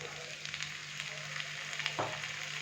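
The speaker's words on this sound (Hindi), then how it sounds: "अच्छे से हम इसको मिक्स करेंगे और 2 मिनट के लिए हम इन सारी चीज़ों को मज़ीद फ्राई कर लेंगे" Garlic and finely chopped tomatoes fry in a pan for a Madras chicken curry, making a steady hissing sizzle close up, with a low hum beneath and one brief stirring clunk near the end.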